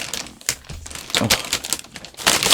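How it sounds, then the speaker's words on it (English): Plastic mail packaging being handled and crumpled up close, irregular bursts of crisp crinkling and crackling with brief pauses between, loud and alone with no talk. "Sorry about the crinkling."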